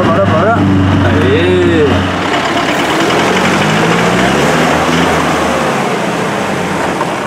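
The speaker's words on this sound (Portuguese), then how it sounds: "Agora acelera. Acelera pela direita e vai." An original Troller T4 jeep engine rumbles and revs on an off-road trail, loud and close, with a low growl that rises and then settles while someone talks over it.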